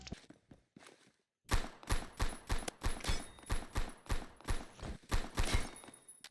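Rapid gunfire from a Phantom Forces match, a few sparse shots at first, then a steady run of about a dozen loud, evenly spaced bursts with sharp cracks and low thumps, close and dominant.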